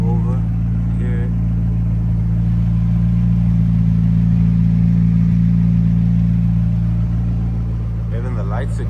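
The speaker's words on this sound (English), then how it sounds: "That's the V8 motor, twin turbos." A McLaren 570S twin-turbo V8 runs steadily with a deep, constant low hum, close and loud, while someone talks over it at the start and end.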